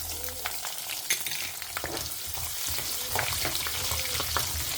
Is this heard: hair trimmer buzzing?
no